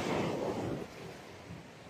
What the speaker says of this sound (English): It's beautiful here with the sound of the waves.